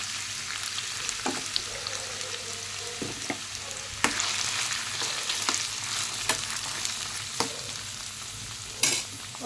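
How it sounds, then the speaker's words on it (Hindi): Chopped mustard stalks frying in hot mustard oil, with a constant close sizzle broken by sharp scraping stir strokes at irregular intervals and a louder scrape near the end. "अब इसमें हम ये कटी हुई डंठल डाल देते हैं।"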